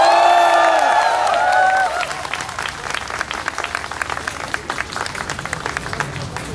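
A crowd at a political rally in Gangnam near Kyobo Tower claps and cheers after a loud electronic tone fades, the applause continuing in dense, fairly close bursts with some shouting mixed in.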